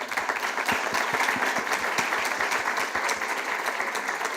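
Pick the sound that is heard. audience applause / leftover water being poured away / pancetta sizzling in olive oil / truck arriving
audience applause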